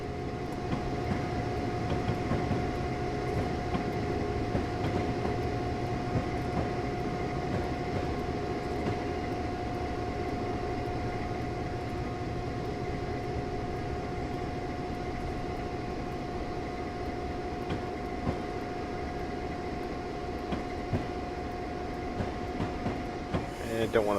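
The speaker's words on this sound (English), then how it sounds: "Train going by up there." Continuous low rumble and steady mechanical drone of a train passing in Train Simulator 2013, sustained and fairly loud throughout with no clear break.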